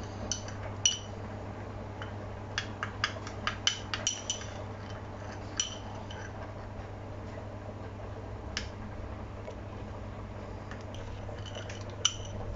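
A spoon stirs a red cabbage soil pH test mixture in a container, giving a run of faint, irregular ticks and clinks against the sides over a low steady hum.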